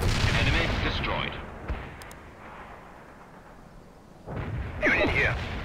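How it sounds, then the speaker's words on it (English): Mortar artillery fire in the video game World in Conflict: loud booming bursts open and close the stretch, with a quieter rumbling lull between them and radio-style game voices mixed in. "We are targeting mortars at the provided coordinates."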